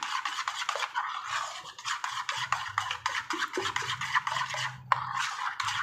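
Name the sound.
vigorously mixing ground dal with water in a bowl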